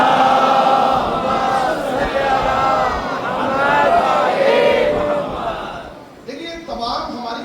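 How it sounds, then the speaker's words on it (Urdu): Mosque congregation at a Muharram majlis chanting salawat in unison, a dense mass of voices swelling and ebbing, loud and close throughout, then thinning into scattered voices near the end. "ایک مل جل کے نعرے صلوات پڑھیں محمد"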